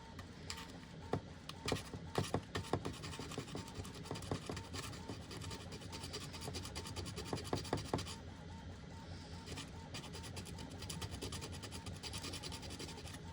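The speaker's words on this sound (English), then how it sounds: "These sanding pencils are, I believe, 220 and 180." Steady dry rasping and scratching of a 220 and 180 grit sanding pencil on a 3D-printed plastic part, with irregular rubbing strokes and occasional sharper scrapes, close up and continuous.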